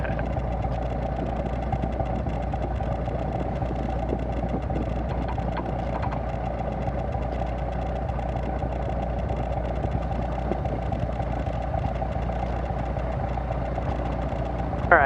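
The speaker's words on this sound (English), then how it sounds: "We'll starve the engine of fuel" A small plane's engine idles steadily, a constant droning hum with a low, even throb that holds unchanged throughout.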